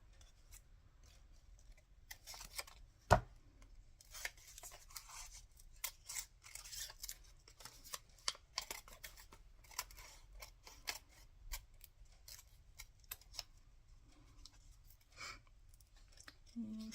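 Scissors snip an altered playing card in small irregular cuts, crisp close clicks and short shearing strokes spread out over a quiet background, with one sharper snap early on.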